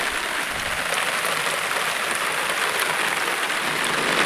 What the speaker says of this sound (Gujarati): ખૂબ વરસાદ પડે છે જેથી પાણીની પૂર જશમાં આવી રહી છે